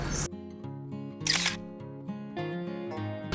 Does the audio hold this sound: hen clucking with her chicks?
no